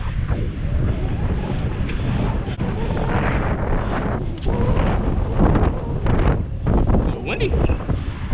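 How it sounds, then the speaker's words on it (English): Strong wind blasting straight into the microphone outdoors in rain, a dense rumbling roar that stays loud and unbroken throughout with surging gusts. "So windy."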